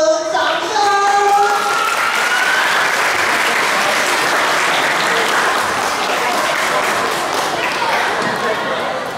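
Sustained, loud applause from an audience after a children's team performance at a Buddhist Bodhi children's camp, steady clapping filling the whole stretch, with a brief voice at the very start.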